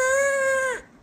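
A small child imitates a cow's moo in a single sustained, tonal, bleat-like call lasting under a second, then stops abruptly; no other talk is heard.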